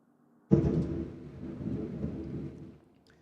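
Thunder from a bad storm outside: a sudden loud crack that rolls into a long, low rumble lasting a few seconds before fading, heard alone with no talk.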